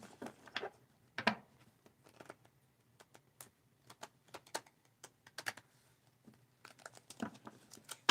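A deck of tarot cards is shuffled and handled in soft, irregular bursts of papery riffling and tapping close to the listener, with quiet pauses between them and no talking.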